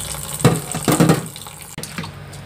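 Cold tap water pours over cooked ramen noodles in a sink, with uneven splashing bursts and louder surges as the stream hits the noodles, then a sharp knock and a softer trickle.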